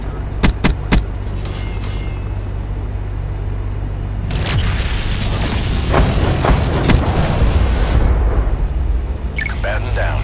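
Gunship fire and explosions in Call of Duty: Black Ops 4, sharp clicks early, then a heavy rumbling barrage of booms and impacts building midway and ending in a crackling hiss, with radio chatter.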